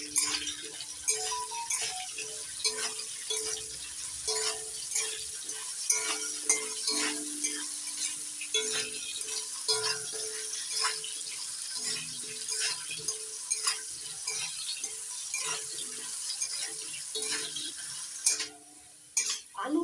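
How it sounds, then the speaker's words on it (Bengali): Salted diced potatoes fry in hot oil with a soft sizzle under frequent stirring scrapes and light utensil clinks against the pan, continuing steadily without speech. "তেল গরম হয়ে গেছে, এবার দিয়ে দিচ্ছি ডুমো ডুমো করে কেটে নেওয়া আলু। লবণ দিয়ে আলুগুলো ভেজে নেব।"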